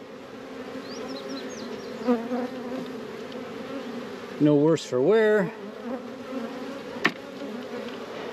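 Honey bees buzz steadily as nuc frames are slid into a deep hive box, with a constant drone and a few louder close fly-by whines. A person speaks briefly.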